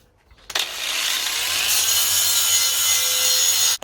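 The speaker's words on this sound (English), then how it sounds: "let's grind those off as well" An angle grinder starts abruptly and then grinds steadily, loud and close, to remove high spots on the steel of an old propane tank being built into a log burner. It runs as a harsh continuous whine for about three seconds, then stops sharply.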